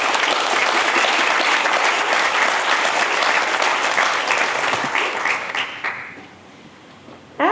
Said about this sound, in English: So let's give it a big round of applause for Josh Wilson.